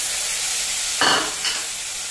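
Spice paste of cumin, coriander and turmeric mixed with water is poured into a hot frying pan. After a quiet moment it sets off a sudden loud hiss, which fades quickly into a softer sizzle with a second small flare.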